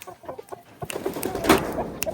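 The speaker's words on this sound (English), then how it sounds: "this chicken out there" Backyard hens cluck as they are let out of their enclosure into a planted compound: a string of short, soft clucks and chirps that builds into busier, nearer clucking against light outdoor background noise.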